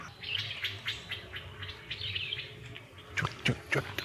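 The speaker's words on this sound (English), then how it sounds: "That's another streak-eared bulbul." Streak-eared bulbul calling on a local birding patch, a string of short, bright chirps repeating through the clip, with a few louder, closer notes near the end over light outdoor background.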